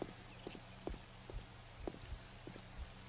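Rain in the video game 7 Days To Die: a faint, steady patter of rain with soft, regular thudding footfalls beneath it.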